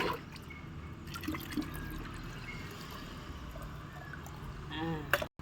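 Liquid organic fertilizer poured into a can, giving a steady watery trickle and splash that runs for several seconds, with a voice talking nearby.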